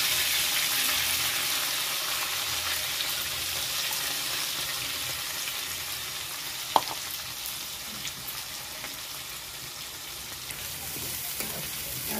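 Ground spice paste sizzles hard in hot oil with cumin seeds and curry leaves, a dense, even crackle that holds steady up close, broken once by a sharp tap.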